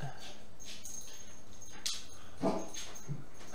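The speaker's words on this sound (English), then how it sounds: "He barks because he's excited because he wants to see people." A dog gives a couple of short, sharp barks or yips over a noisy indoor background, loud and nearby.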